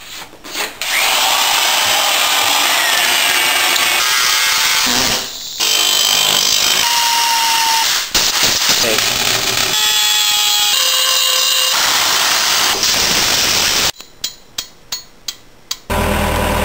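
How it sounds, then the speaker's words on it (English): A half-inch Milwaukee right angle drill bores into wood with a loud, continuous whine that shifts pitch as the bit bites and loads up, then ends in a few short bursts. "½ inch Milwaukee right angle drill."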